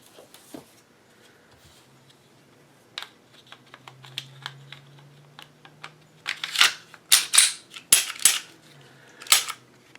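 Metal parts of a Taurus PT709 pistol click and snap during reassembly, with sparse light taps at first building to a cluster of sharp, close clacks toward the end.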